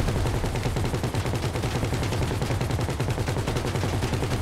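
Sustained automatic gunfire in GTA 5 Online rattles without pause, dense and loud throughout, like several weapons firing at once in a street shootout.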